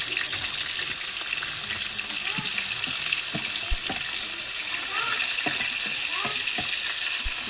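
Curry leaves, onion and green chilies hit hot oil in a pan for a potato palya, giving a steady close sizzle and crackle with occasional scraping stirs and small pops.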